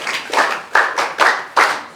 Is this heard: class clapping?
yes